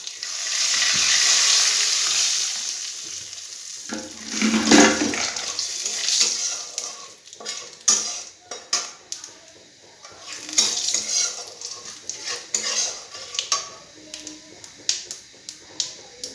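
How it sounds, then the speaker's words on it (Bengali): Cumin seeds and a bay leaf hit hot oil with a loud, hissing sizzle. Uneven bursts of sizzling and stirring clatter follow as the pan is worked. "এক চামচ জিরে দিয়ে দেব ফোড়নে তেজপাতা"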